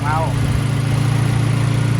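A used car's engine idles smoothly and evenly at close range, a steady low hum that holds throughout, with a brief higher chirp near the start.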